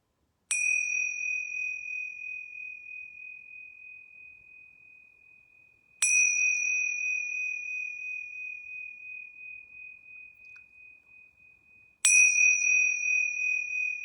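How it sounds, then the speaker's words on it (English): Yoga bells struck three times, evenly spaced about six seconds apart, each a bright, pure ding that rings on and slowly fades, alone in near silence at the close of a yoga class. "I'm going to ring the yoga bells 3 times."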